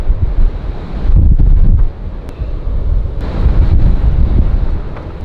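A strong windstorm batters an Airstream trailer in Marfa, Texas, heavy gusts roaring and buffeting the microphone in surging waves that ease briefly before building again, loud and close, with no speech.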